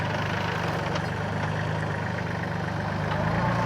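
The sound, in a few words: tractor with front loader engine running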